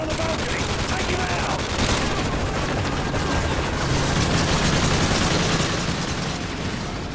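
Sustained machine gun fire and a dense crackle of gunshots from a street battle in Call of Duty: Modern Warfare 3, loud and continuous throughout, with a gunner firing from a balcony.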